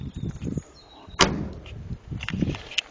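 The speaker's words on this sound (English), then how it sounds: "as you can tell, the way the doors open and close" The door of a Daimler Consort DB18 car shuts with one sharp, solid thunk near the middle. It is close and distinct, with quieter handling noises and faint movement sounds before and after.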